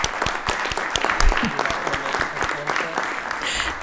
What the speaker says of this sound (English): can we please give them a clap, a hand of appreciation and congratulations.